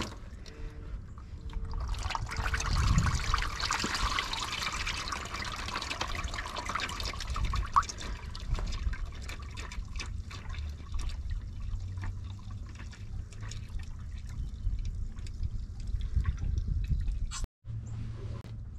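Engine oil drains from a dump truck into a large container as a steady close trickle of liquid that runs for many seconds, with a few faint clanks and a brief drop-out near the end.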